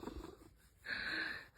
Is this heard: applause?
no